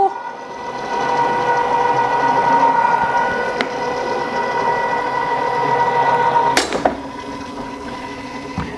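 AccuQuilt GO! fabric cutter running through a sandwich of fabric to cut heart shapes, giving a steady mechanical hum for most of the clip, ending with a brief sharp rattle near the end.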